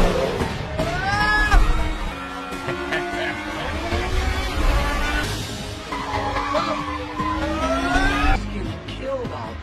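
Race cars roar past on a track in the animated film Turbo, engines whining up and down with several tire squeals and skids, loud and continuous under a voice talking.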